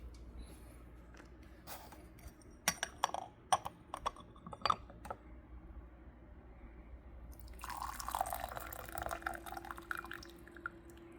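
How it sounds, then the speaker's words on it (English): Hot water poured over raw pu-erh tea leaves for a quick rinse, a faint, close splashing pour that follows scattered soft clicks and drips in a quiet room. "we'll be doing that wash as quickly as possible. Just wetting the leaves, waking them up a little."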